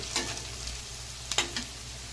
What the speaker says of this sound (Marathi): परत झाकण लावून तर आपण कांदा परत ढवळून चेक करून घेऊया कितपत शिजलाय ते